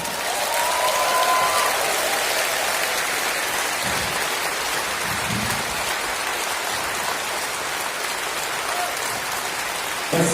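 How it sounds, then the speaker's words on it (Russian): A large audience applauds steadily for about ten seconds, a continuous, dense hiss of many hands clapping at once that holds an even level throughout. "Если да, то жду аплодисментов,"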